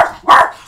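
A single sharp dog bark rings out close and loud indoors, preceded by a fading yelp-like tail.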